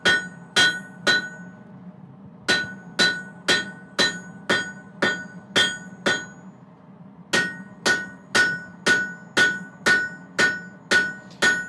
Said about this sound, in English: Bigger metal usually requires a bigger hammer. It just moves the steel easier.